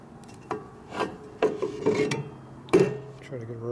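Rubbing on an engine part of a 1958 Harley-Davidson Panhead 74ci during a top-end rebuild, giving several short, close rasping strokes at an irregular rhythm with quiet gaps between.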